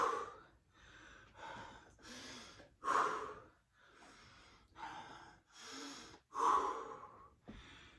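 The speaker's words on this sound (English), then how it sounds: "3 deep breaths." Deep breathing during an advanced HIIT dumbbell workout, a series of about eight loud, close inhales and exhales in a steady rhythm, with no talking.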